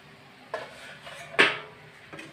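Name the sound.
lifting the lid off a pot of kofta curry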